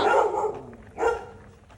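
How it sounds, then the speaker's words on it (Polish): Dogs bark in a Thai town, two loud, close barks about a second apart, with no voices over them. "O, te psy."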